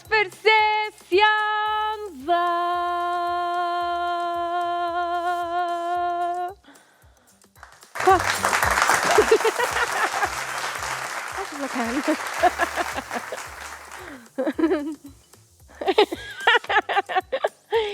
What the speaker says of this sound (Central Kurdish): بۆی چەپڵە